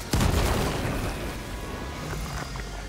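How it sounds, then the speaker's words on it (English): A grenade blast in the video game Helldivers 2 lands as a single loud, close boom with a sharp onset, followed by a rumbling, crackling tail that lingers and fades slowly under continuing battle noise. "Throwing grenade."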